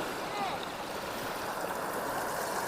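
Floodwater rushes steadily through a Konkan creek after heavy monsoon rain, a continuous hissing flow at moderate loudness with no distinct voices.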